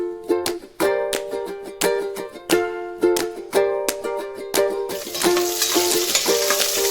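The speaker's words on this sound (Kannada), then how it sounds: "ಈಗ ಒಗ್ಗರಣೆ ಹಾಕ್ಕೊಳ್ಳೋಣ." Spices crackle and sizzle in hot oil as tempering for dal khichdi, with repeated sharp clinks of a utensil against the pan before a steady, loud frying hiss takes over near the end.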